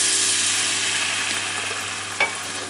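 Paprika frying in a pan with garlic, stirred quickly, giving a steady close hiss of sizzling oil with a brief scrape near the end, no talking.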